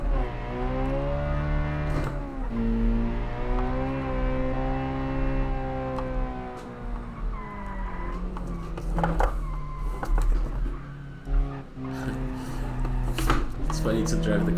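A Group B rally hatchback engine in a racing game drones at steady revs through a lap run, its pitch rising and falling gently, with someone talking over it throughout.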